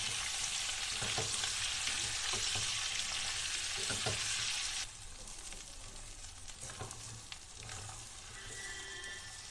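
Pieces of pointed gourd, potato and pumpkin fry in a pan with a loud, close sizzle that drops to a softer hiss halfway through, while scattered scrapes and taps of stirring continue.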